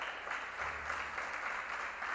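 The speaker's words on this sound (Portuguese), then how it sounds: "Pode aplaudir ao Senhor." Church congregation clapping together during a sermon, a continuous soft, moderately distant patter of applause with a low hum underneath.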